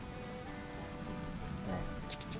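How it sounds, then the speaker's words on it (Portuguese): Rain beginning to fall outdoors during a family fish-fry outing, a soft steady patter of drops on surfaces throughout, faint and even with a slight swell near the end. "Pois é, começou a chuva."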